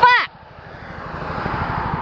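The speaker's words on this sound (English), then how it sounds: "Helicopter." A low, steady rotor-like drone with rhythmic thumping, following a brief loud burst at the start, fairly distant and continuous.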